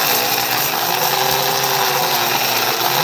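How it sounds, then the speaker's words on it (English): An electric grinder whirs continuously for the whole stretch with a loud, dense, rough buzz while grinding ingredients for a Thanksgiving dish. No one speaks. "So now you just you can grind them up however you like"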